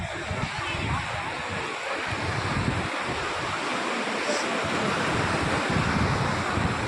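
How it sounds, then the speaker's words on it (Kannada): Big ocean waves at Panambur Beach in Mangalore roar in a continuous loud wash of surf with heavy wind buffeting the microphone, and a voice speaks over it. "ಅಲೆ ನೋಡಿ, ಎಷ್ಟು ದಪ್ಪ ಅಲೆ ಬರ್ತಾ ಇದೆ ನೋಡಿ."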